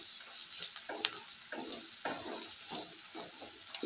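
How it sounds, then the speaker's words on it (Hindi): Food sautéing in a pan for an Indian spicy dum aloo (potato curry) sizzles steadily, with soft stirring scrapes and bursts of crackle recurring throughout, close and unaccompanied by voices. "इसे एक मिनट के लिए हम भून लेंगे।"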